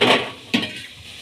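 Fried potatoes tipped into a pan of ghugni masala, two quick close clattering scrapes and a soft sizzle over about a second, no voices.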